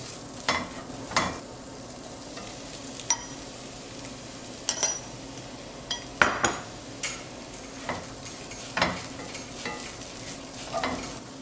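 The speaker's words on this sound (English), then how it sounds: "add the fried prawns back into this and simmer it on low heat for about 10 minutes" Fried prawns simmer on low heat in a roasted coconut and onion mixture, a soft steady bubbling broken every second or so by a spoon stirring and clinking against the pan.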